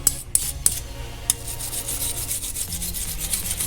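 Quiet, close scrubbing and rubbing while a front brake rotor on a 2006-2010 Scion tC is wiped clean, in short uneven strokes with a few sharp scrapes early on.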